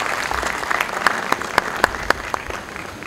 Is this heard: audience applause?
yes